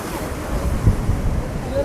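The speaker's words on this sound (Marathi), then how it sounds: "समुद्राचे किती लाटा यायला लागल्या या ठिकाणी" Sea waves breaking against the shore near the Haji Ali Dargah in Mumbai, a loud rumbling wash with heavy wind buffeting the microphone and a crowd murmuring in the background.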